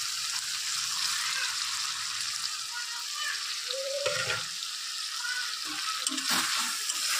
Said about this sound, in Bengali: এর মধ্যে আমি ম্যারিনেট করা মাছটা এবার দিয়ে দেব।